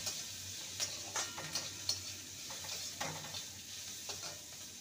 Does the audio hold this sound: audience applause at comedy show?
no